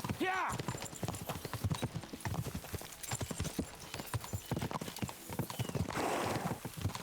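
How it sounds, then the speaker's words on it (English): Horses gallop in Kingdom Come: Deliverance 2, with rapid, dense hoofbeats throughout and a horse whinnying near the start, mixed with game ambience and voices. "We should spur the horses on."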